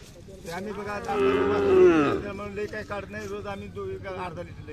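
A Khillar cow or bull at a crowded cattle fair gives one loud, drawn-out moo close by, lasting about a second, with people talking before and after it and a busy market murmur underneath.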